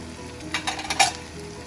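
Carrots and chopped green beans fry in hot oil for paneer biryani, a steady close sizzle with a few louder bursts and scraping stirs in the middle.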